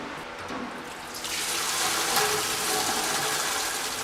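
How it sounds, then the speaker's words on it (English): Whey drains out of a cheese vat through a sieve, a steady close rush of splashing liquid that swells slightly after the first second and keeps flowing alone. "It's going to allow for the whey to escape from the vat without losing the curds."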